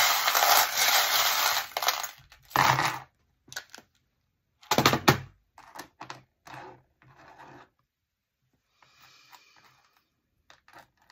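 Small metal charms are tossed and scattered for a divination reading, giving bursts of bright clinking and rattling that settle, followed by quieter sparse clicks and shuffles with silent gaps.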